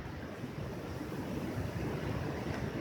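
Large storm waves at sea near Arkhipo-Osipovka, filmed from a hilltop during hurricane-force wind, make a steady, dense roar of surf and wind buffeting the microphone, loud and continuous with no speech.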